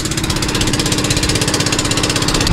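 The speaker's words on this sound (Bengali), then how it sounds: "আমাদের ট্রলার এগিয়ে চলছে মেঘনার দক্ষিণ পূর্ব দিকে" A trawler boat's engine chugs loudly and steadily with a fast, even pulsing rhythm, close up and uninterrupted, while the boat runs along the Meghna river.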